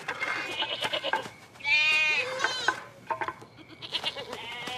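Sheep bleat in a drama scene, several quavering animal cries with one long wavering bleat in the middle, close and clear, mixed with other bleats and background rustle.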